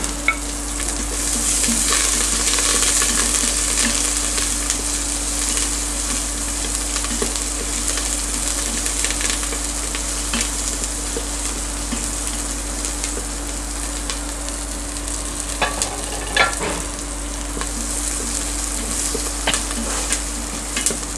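Spices tempering in hot oil in a pan for coconut rice, a steady crackling sizzle with light stirring scrapes throughout, close and continuous, over a constant low hum.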